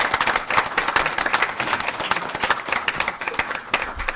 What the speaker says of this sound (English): we want to thank you and give you another round of applause.